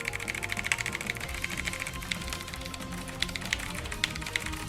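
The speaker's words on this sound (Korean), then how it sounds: "역시 이 키보드가 소리가 더 좋은 것 같아요" Rapid, continuous clacking of keys on a computer keyboard, close and steady, with a low background hum underneath.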